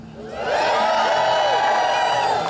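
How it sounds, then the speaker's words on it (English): A live audience cheers and whoops at a political organizing talk, a broad sustained roar that swells after the first half second and holds loud to the end. "I want to hear a cheer from you"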